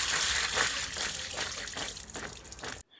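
Tap water runs and splashes steadily while pieces of sweet pumpkin are rinsed in a kitchen, a continuous gushing stream that cuts off abruptly at the end.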